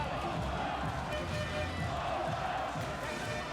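Crowd noise fills a handball arena during a Poland versus Russia European Championship match, a steady, dense roar of spectators cheering throughout without clear breaks.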